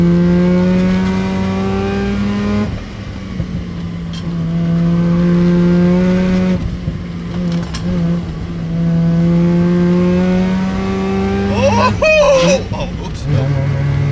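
A Mazda RX-7 FC engine revs and drops through several downshifts on a mountain road, its tone rising and falling loudly, with a person talking over it and a brief clunk near the end from an incompletely pressed clutch.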